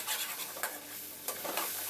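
Minced beef keema with whole cloves, black pepper, black cardamom and star anise roasting in a pan, a steady sizzle with several scraping stirs of a spoon, close and alone.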